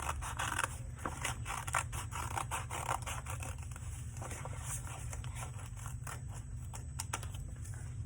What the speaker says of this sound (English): I'm gonna cut right on that line